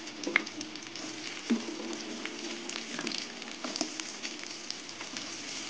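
Chopped onions go into hot oil with already-fried garlic in a pan for an okra dish, giving a steady, close sizzle with scattered crackles and a few soft spoon clicks, no voices.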